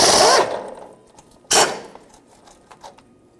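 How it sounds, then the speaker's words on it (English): A 5/8 socket wrench works a bolt loose on a 1997-2006 Jeep Wrangler suspension, giving two short bursts of ratcheting clatter separated by quiet, followed by faint clicks. "So 5/8 socket, I'm gonna get right in there."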